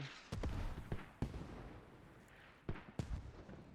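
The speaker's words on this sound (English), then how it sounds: "Oh, mortars now arriving to" Mortar shells landing in the video game Squad, a quiet series of sharp distant booms and thuds arriving irregularly, several in quick succession.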